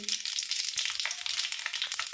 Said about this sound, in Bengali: তেল দিয়ে দিয়েছি কড়াইতে, তেল গরমও হয়ে গেছে। এবার এর মধ্যে আমি দিয়ে দিচ্ছি এই যে 5 ফোড়ন।